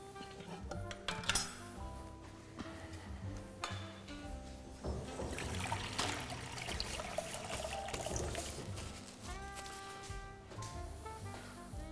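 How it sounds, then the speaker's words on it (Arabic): A little water trickles into a baking pan on its way to the oven in a home kitchen, a soft dribbling pour with occasional clinks over a steady background of music. "توا باش نزيد نحط جوست شويه ماء وباش نحطه في الفرن"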